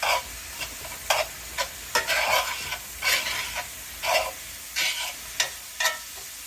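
Taco shells fry in a pan with oil, crackling and sizzling in repeated bursts as they are moved and turned, close and fairly loud.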